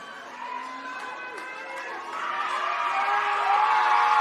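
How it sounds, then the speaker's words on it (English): Spectators at a junior rugby league under-16 semi-final cheer, a crowd roar that swells and grows louder toward the end, with whoops and chatter from a distance over the open field. "you can hear that cheer from the crowd"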